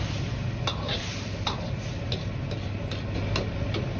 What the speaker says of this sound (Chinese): 用勺子推匀调料后，再倒入切好的油菜